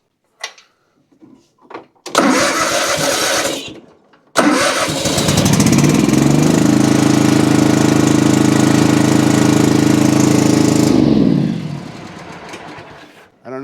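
A Kawasaki engine on a Toro Titan ZX6020 zero-turn mower, which bogs and dies under load, sputters through brief cranking bursts, then catches and runs loud and steady for several seconds before it cuts out abruptly.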